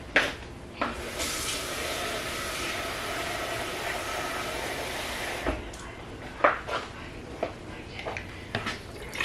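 A kitchen tap runs into a pot during home cooking for a pasta and cheese dinner, a hissing flow for a few seconds that then stops, followed by scattered clinks and knocks.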